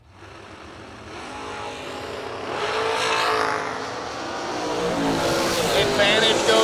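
At a drag racing event, a dragster and a door car make a run, their engines roaring and building steadily louder, while an announcer calls the race over the noise.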